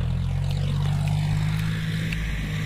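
A John Deere 5050 D tractor running a rotavator through muddy fields, its steady engine drone loud and continuous with a deep low rumble throughout, no voices.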